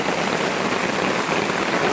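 Heavy rain pounds on a tarp at a canoe campsite, a dense, loud, continuous hiss of drops with no gaps and no voices.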